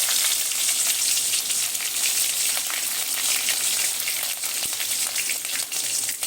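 Peanuts and green chilies fry in hot oil with a loud, dense, continuous sizzle and crackle, close up and steady with no voices.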